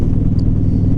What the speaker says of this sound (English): To twist that throttle